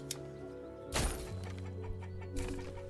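Chickens in the video game Manor Lords cluck softly over a low background hum, with a couple of brief louder bursts of clucking.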